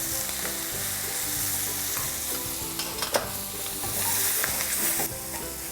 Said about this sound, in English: The onions are sweating nicely.